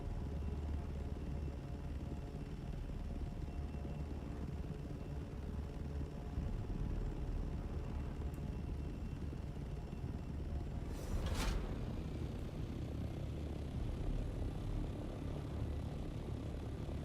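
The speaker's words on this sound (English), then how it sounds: "why is my helicopter bugging out, making the sound propellers?" Helicopter-like propeller drone in the Dune Awakening video game, a steady low whirring rumble that persists throughout, with a brief sharper swell midway.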